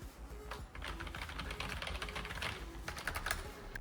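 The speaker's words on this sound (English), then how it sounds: "For the keyboard, I went with the Corsair K5 Core RGB keyboard, a great keyboard for a great price." Rapid typing on a Corsair K55 Core RGB keyboard, a dense run of crisp key presses with occasional louder strokes, close and steady with no voices.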